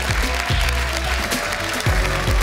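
A studio audience at Masked Singer România applauds. Dense, steady clapping with some cheering runs over thumping music throughout.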